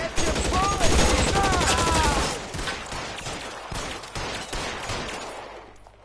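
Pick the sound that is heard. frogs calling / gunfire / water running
gunfire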